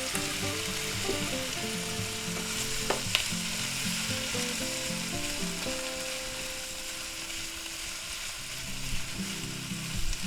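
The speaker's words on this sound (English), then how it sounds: "Kind of saute these up a little bit." Green peppers and onions sautéing in a pan give a steady close sizzle and crackle, joined briefly by a sharp tap of a utensil.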